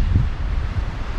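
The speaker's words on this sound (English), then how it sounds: "Okay, so it's getting windier now." Wind gusting across a tropical island shoreline, a steady low rumbling buffet against the microphone with faint surf or water movement underneath, brief and continuous.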